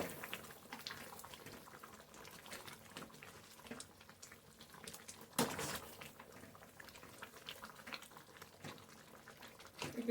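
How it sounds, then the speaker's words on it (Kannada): Tomato chutney simmers and bubbles in a pot, a steady low seething burble that runs throughout, with one brief louder burst partway through and no talking. "ನೋಡಿ ಕುದೀತಾ ಇನ್ನೂ ಚೆನ್ನಾಗಿ ಕುದಿಬೇಕಿದೆ"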